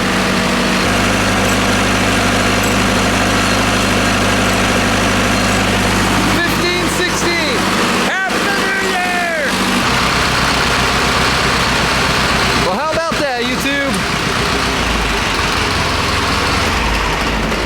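A diesel tractor engine runs steadily at about 1,500 RPM, loud and close with a constant low drone, while someone talks briefly over it.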